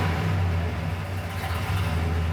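A 1969 Dodge Daytona sits idling nearby, its engine holding a steady, deep, loping rumble throughout with no voices over it.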